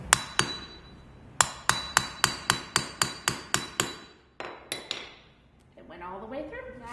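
A hammer strikes a hole punch through bike tire rubber, a close series of about a dozen sharp metallic taps in a steady rhythm, then a couple of separate hits before a person starts speaking.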